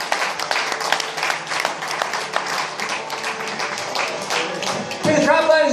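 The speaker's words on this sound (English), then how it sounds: "Give him another round of applause, please." Audience applause and clapping for a comedian at a stand-up show, a dense steady patter that swells near the end, with a voice speaking over it.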